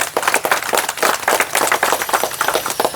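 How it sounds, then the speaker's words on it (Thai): A crowd applauding at a handover ceremony for a rebuilt house and new bathroom built for a disabled resident, loud, fast, irregular clapping from many hands that holds strong throughout. "ขอขอบพระคุณท่านด้วยนะครับขอเสียงปรบมือด้วยครับ"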